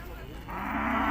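A cow with her calf at a cattle market in Urzhar lets out a loud, close moo that begins partway through and swells to the end.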